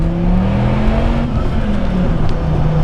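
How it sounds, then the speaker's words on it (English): A Dodge Viper accelerating at full throttle, a loud, close engine roar with rising pitch sustained over the whole stretch and no talking. "here's the first time I experienced this car at full throttle."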